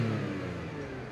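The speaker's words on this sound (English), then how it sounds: "let's hear that 3-liter V6 turbocharged" A turbocharged 3-liter V6 in an Acura MDX Type S revs with a steady, close mid-pitched engine drone, brief and even, with no voices.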